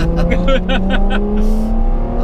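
Ferrari F12 TDF accelerating hard, its engine note rising steadily through the revs, loud and close from inside the car, with a brief easing in the middle before pulling on.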